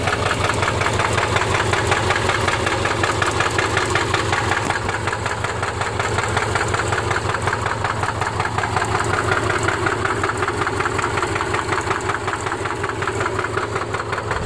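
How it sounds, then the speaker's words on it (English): A 2009 Subaru Forester engine idles in gear with a misfire, giving a steady, loud, close rumble with an uneven knocking pulse throughout and no talk. "It's idling in gear."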